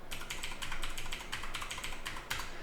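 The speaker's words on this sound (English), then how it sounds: "I'm just going to type everything out here" Rapid typing on a computer keyboard while entering network settings, with quick irregular key clicks in bursts, close and fairly quiet, and no talking.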